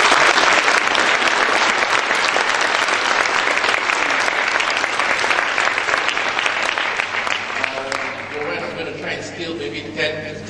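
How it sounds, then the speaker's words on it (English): Loud, sustained audience applause with dense clapping that gradually thins and fades toward the end. "they deserve another round of humongous applause"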